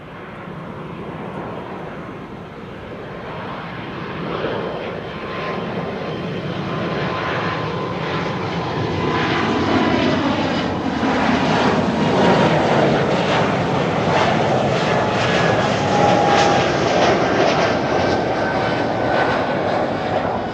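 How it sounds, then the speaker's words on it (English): A KLM Embraer E195-E2 airliner takes off at Amsterdam Schiphol, its jet roar swelling from a moderate rumble to a loud, sustained broadband thunder heard from outside at the airfield, with no talk. "First up, KLM flight 1303 to Gdansk in Poland. E2 Embraer 195. Up already."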